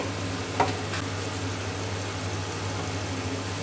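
Masala is sautéed in a pan with a constant, even sizzle over a low steady hum, broken once early by a single short clatter.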